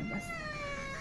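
A cat meows once in a drawn-out, wavering cry while it eats indoors, close and fairly quiet, with faint background hum and no talk.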